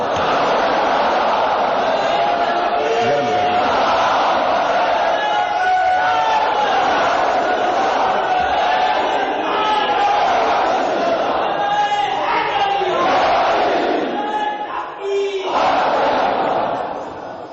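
A large crowd at a religious gathering chants slogans in loud, sustained unison, voices overlapping in a dense roar that continues nearly unbroken throughout, dipping briefly near the end.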